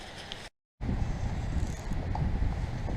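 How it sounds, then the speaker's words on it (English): Wind blows over a lake while someone fishes from an anchored boat at Cottonwood Lake near Nelson, BC. A steady rushing buffet hits the microphone, cuts out briefly near the start, then returns and holds strong. "I've got the wind at my back"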